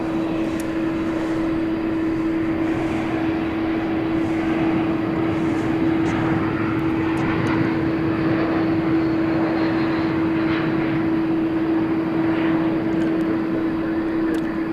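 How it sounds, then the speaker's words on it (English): A UPS cargo plane taxis out at DFW Airport at night, its engines giving a steady, distant whine with a low hum that stays level throughout. "We got this UPS plane, which has just moved out"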